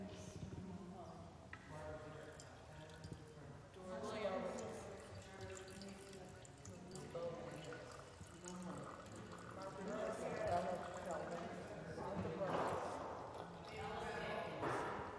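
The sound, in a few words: water poured as libation during opening ritual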